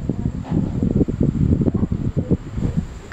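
An electric fan runs nearby with a steady whirring hum and gusty, fluttering air rushing against the microphone.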